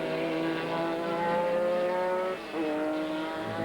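A Lister Storm GT race car at an FIA GT event in 2000 pulls into the pits, its loud, high engine note holding steady, dipping briefly as the driver lifts, then picking up again, with no voices.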